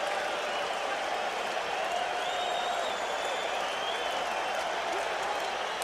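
A packed baseball stadium crowd roars and applauds at the 1986 World Series Game 7 between the Boston Red Sox and New York Mets, a dense sustained cheer with whistles rising over it, while commentary runs faintly beneath.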